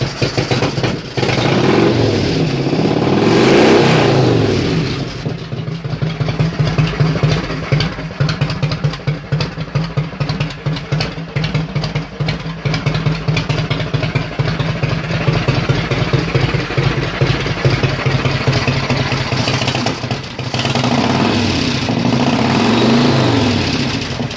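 A Yamaha XV1600 Road Star V-twin runs after a new carburetor install, loud and close with a lumpy uneven idle, several revs swelling and falling, then settling back into a rough idle.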